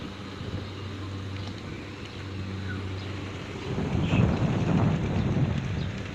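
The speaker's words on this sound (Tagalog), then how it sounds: "ang hangin sarap ng hangin" Steady wind buffeting the microphone outdoors, a constant low rumble that grows rougher and louder toward the end.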